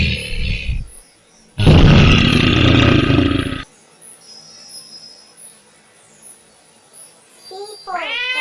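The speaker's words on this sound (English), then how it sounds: "B for bear." A bear lets out a loud, rough, sustained roar lasting about two seconds, preceded by a shorter growl, followed by quieter background sounds and a brief tonal cry at the end.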